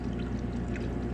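Water pouring into a drinking glass in a home kitchen, a brief steady rushing pour heard close up, fairly quiet, with no talk.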